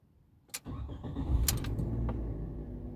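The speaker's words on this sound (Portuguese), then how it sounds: "Apenas irei ligar esse carro aqui para mostrar para vocês que não tem mais barulho no motor" A Fiat Mobi engine cranks briefly and catches, then settles into a steady, smooth idle close by, with no other sounds over it.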